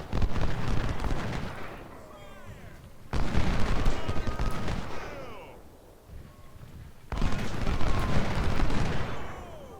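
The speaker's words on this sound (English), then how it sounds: "We are opening fire." Gunfire in an Ultimate General: Civil War battle, three loud rolling volleys of musket and artillery fire with crackling bursts and whistling, each fading out before the next, with someone speaking faintly between them.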